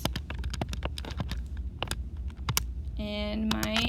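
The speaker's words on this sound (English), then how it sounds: "I'm going to type in my study hours" Fingers typing figures into a calculator's keypad: a quick run of light, close plastic clicks and taps, followed by a short electronic tone near the end.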